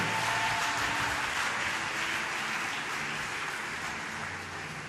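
A church congregation applauds and cheers in acclamation of the Lord, a dense, steady roar of clapping that holds evenly from start to finish and fades slightly near the end, with no clear speech above it.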